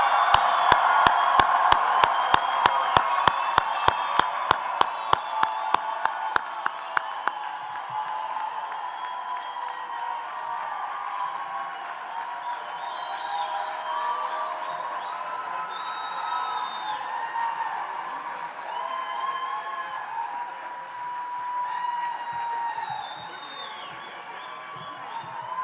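Large commencement crowd applauding and cheering for new chiropractic graduates, with strong rhythmic clapping at first that softens into sustained cheering, whistles and whoops across a big venue.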